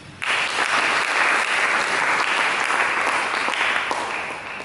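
A church congregation claps together during a sermon, a dense, steady burst of applause close by that holds for several seconds before easing slightly at the end.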